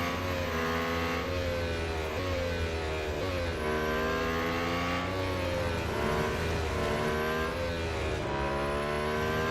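Race cars in the mobile game Real Racing 3 roar continuously, engines rising and falling through repeated gear shifts as one car tries to pass another on a tight battle, loud and sustained with no voices.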